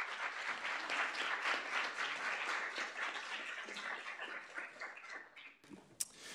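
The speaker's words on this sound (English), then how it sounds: "So if we could give them a round of applause" Round of applause in a student senate meeting room, dense clapping from a modest group that swells early, gradually tapers over several seconds, then drops away with a final sharp knock near the end.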